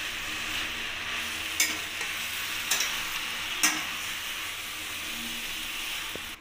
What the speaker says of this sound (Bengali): ঢাকাটা খুলে এবার আমি একটু শাকটাকে নাড়িয়ে দেব